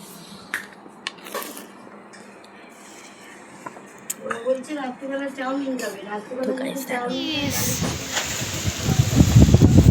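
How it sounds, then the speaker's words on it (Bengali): Scattered clicks and a brief voice give way to loud gusts of a Kalbaishakhi (nor'wester) storm wind roaring and buffeting the microphone, growing stronger toward the end. "দেখো গাইস, পুরো হাওয়া দিচ্ছে।"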